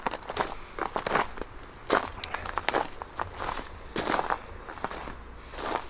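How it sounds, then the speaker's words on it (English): Footsteps crunching on hard-frozen ground in a deep wooded cutting at minus three degrees, close and steady: brittle, crackly treads repeating at a walking pace, alone without talk. "You can hear the crunch of my footfall. It's frozen pretty hard in here."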